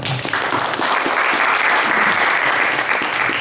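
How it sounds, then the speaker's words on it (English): A crowd applauds steadily, a loud, dense wash of clapping that carries on without a break. "So just give it a round of applause."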